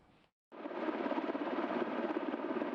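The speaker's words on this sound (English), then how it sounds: "Helicopters, drones and bombs on the streets of Seoul, all part of a simulated attack on the South Korean capital." Helicopter rotor noise during a military drill in Seoul swells in after a brief gap and holds as a steady, loud, continuous whirring drone.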